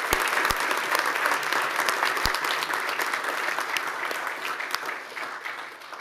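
Audience at a 2013 Edina Founders Day celebration applauding warmly and steadily, with scattered louder claps near the front as the clapping gradually fades.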